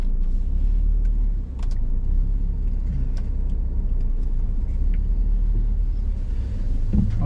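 A car pulling forward after a right turn during a parallel-parking driving lesson, heard from inside as a steady low engine and road rumble at constant level, with faint small cabin noises and no speech.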